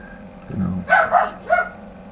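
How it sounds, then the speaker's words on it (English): A few sharp dog barks in a quick burst, fairly close, with a short gap before a final bark. "Please don't mind my dog."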